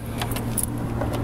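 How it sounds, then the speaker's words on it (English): Keys for a 1974 Pontiac Firebird restomod jangle in short metallic clinks and rattles over a low steady hum, close and brief. "Let me grab the keys and we'll get in the trunk"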